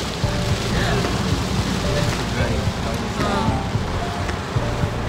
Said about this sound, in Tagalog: because this rain, guys, we are not experiencing it in UAE before.